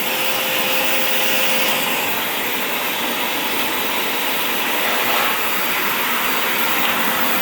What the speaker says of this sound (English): start vacuuming behind the sofa and all the floor.